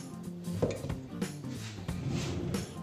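A teaspoon scraping and clinking against a polypropylene plastic food container while scooping a dry salt curing mix for mackerel, several light knocks and scrapes in an irregular rhythm, close and fairly quiet.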